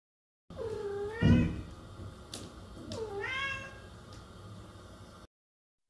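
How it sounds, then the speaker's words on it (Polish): A cat meows twice, a short rising-falling meow then a second drawn-out one, fairly faint against a quiet background. "Kot."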